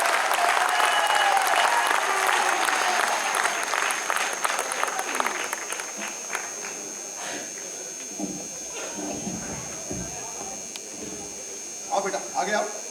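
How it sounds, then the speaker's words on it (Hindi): Loud audience applause at a poetry recital during the Taj Mahotsav festival in Agra, a dense burst of clapping that tapers off after about six seconds, followed by scattered claps and talking. "तालियां उठाओ जोर से"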